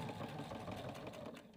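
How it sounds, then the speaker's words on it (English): A sewing machine stitches down an elastic casing with a continuous mechanical hum and rapid needle chatter, close and soft, with no talk. "Now we are going to stitch to secure this top casing in place."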